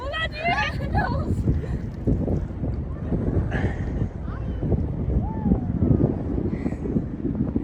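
Wind rushes and buffets the microphone in a steady loud roar during a run on a handmade snow sled, with voices calling out over it throughout.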